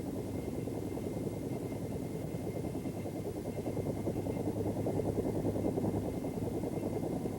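Steady rotor and turbine drone of a Bell AH-1 Cobra attack helicopter in flight, a continuous dense thrum with fast blade chop, holding level throughout with no voices.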